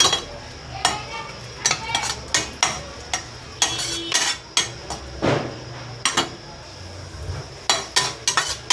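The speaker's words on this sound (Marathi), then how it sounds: "ह्याच्यातच परत थोडंसं तूप टाकूयात आणि मनुके थोडेसे भाजून घेऊयात" Raisins roasting in a little ghee in a pan for karanji filling, heard as a faint low sizzle beneath repeated sharp clinks and scrapes of a spoon against the metal pan at an irregular rhythm, close by, with no talk.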